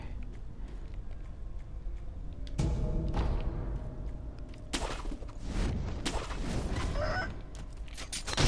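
In Sekiro: Shadows Die Twice, a flock of chickens clucks and squawks over steady game ambience, with several louder flurries of fowl calls and thumps and no voices.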